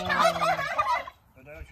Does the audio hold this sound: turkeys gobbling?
yes